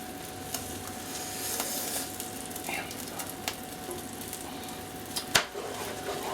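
Steady sizzling of steak stock poured into a hot pan for steak au poivre, a continuous bubbling hiss with small pops and one sharp crackle near the end.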